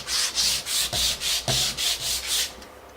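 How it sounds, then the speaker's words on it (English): Painted MDF board being hand-sanded to distress it, with a steady back-and-forth scratchy rubbing in about eight even strokes, close up and with no talk. "give it some extra sanding and we'll take care of that on the next step"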